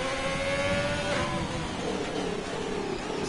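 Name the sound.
race car engines in an F3 racing video game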